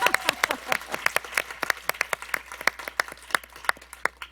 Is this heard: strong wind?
no